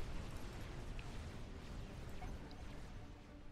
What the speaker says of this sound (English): Like right now, all I hear is gunshots.